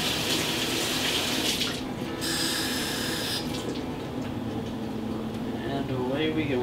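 A kitchen tap runs steadily, filling a measuring cup with a quarter cup of water. The flow hisses continuously with shifts in tone as the cup fills, and a voice talks over it.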